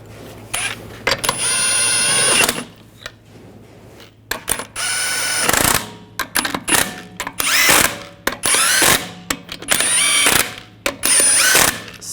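A power tool spins lug nuts onto a 2014-2018 GMC Sierra 1500 wheel in loud, close whirring bursts of a second or two, separated by short pauses and clicks, with no talk.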